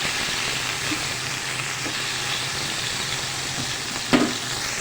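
Chicken pieces fry in a pan for a spaghetti dish, giving a steady, even sizzle at close range, with one brief clatter near the end and no voices.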